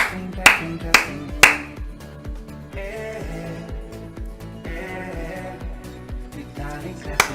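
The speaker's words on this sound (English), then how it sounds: "Vitalik clapping, clapping, clapping, clapping." Three sharp, loud hand claps ring out near the start over rhythmic background music with a steady beat, followed by softer tapping and one more clap at the very end.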